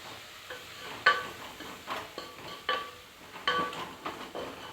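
Spoon stirring curd into drumstick biryani masala paste in a pot, soft scraping strokes repeating about every second with a faint sizzle underneath, quiet and close.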